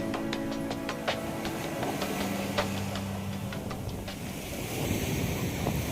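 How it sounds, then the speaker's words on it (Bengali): Steady ocean surf rushes continuously onto Pattaya Beach in Thailand, with a few faint clicks and a low hum underneath; no voices. "একটু ওয়েভটা এত বেশি, না হলে পাতার এই বিচে এত ওয়েভ থাকে না"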